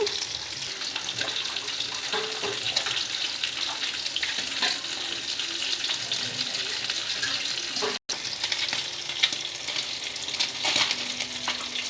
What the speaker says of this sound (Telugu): ఇప్పుడు ఫ్రై చేస్తున్నాను